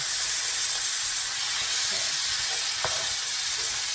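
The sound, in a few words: stirring black-eyed peas into sausage and greens in a pot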